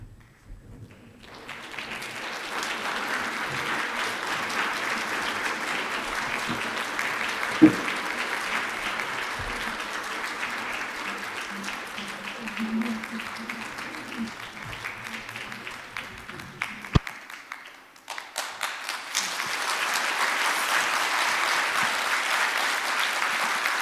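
Sustained audience applause fills a hall at a Korean adoptee gathering, a steady wash of clapping from a crowd that dips briefly and then swells again near the end.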